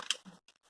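Scissors snip through a plastic coffee bag: a single sharp crinkly cut followed by a few fainter, brief rustling snips, close and quiet, with no talk.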